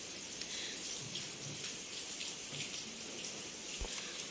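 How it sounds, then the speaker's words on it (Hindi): Steady rain hissing and pattering on surfaces, fairly faint and continuous, with occasional louder drips and no talking. "आवाज़ सुन सकते हो आप बारिश की।"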